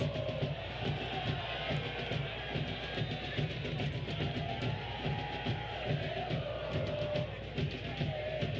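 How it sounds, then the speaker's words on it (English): Northern Guard supporters cheering at a Detroit City FC soccer match against Chattanooga FC: a steady, distant crowd roar that holds without break across the whole stretch. "Northern Guard has been loud from the outset, and they've had a lot to cheer about here"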